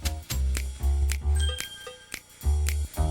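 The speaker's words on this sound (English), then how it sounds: "Hey, there's the bell." A school bell rings in an animated 1995 Schoolhouse Rock learning CD-ROM, heard as a quick run of bright metallic dings over a loud, pulsing music bed.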